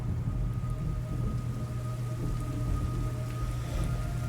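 Steady rain in Metal Gear Solid Delta hisses continuously with a low rumbling undertone, evenly textured and moderately loud, with no voices.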